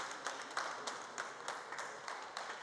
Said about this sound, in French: C'est sous les applaudissements qu'il a fait son entrée ce mercredi matin dans le palais